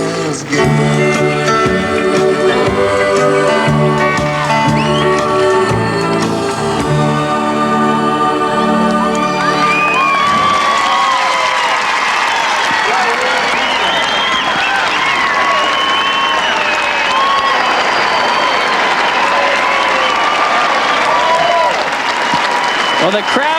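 Outdoor figure skating crowd at a 1995 men's competition in Sun Valley breaks into sustained applause and cheering, loud and dense, taking over from music that plays at the start.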